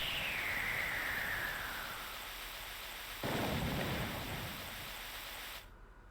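Stormy weather in a Pokémon game: steady rain hiss with a rumbling thunder roll that swells midway, then the sound cuts off abruptly near the end.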